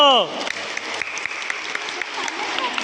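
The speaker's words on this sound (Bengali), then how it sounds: "আরে জোরে হাততালি ওদের জন্য" A theatre workshop audience claps in an indoor hall, with brisk, dense applause that follows a brief voice at the start and continues steadily nearby.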